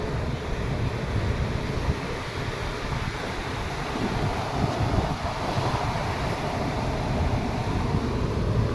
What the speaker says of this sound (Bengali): সমুদ্রের কি ভীষণ গর্জন